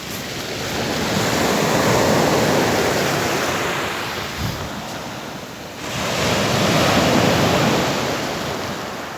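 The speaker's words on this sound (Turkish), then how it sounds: "Deniz de dalgalı." Rough sea waves off a small coastal town wash in two long, loud surges, with steady roaring surf and wind noise on the microphone and no talking.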